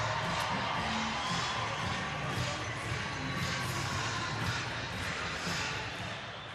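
Crowd in a curling arena at the 2015 World Men's Championship playoff between Norway and Canada, cheering and chattering during a break between ends, a steady, moderately distant wash of voices and occasional whoops.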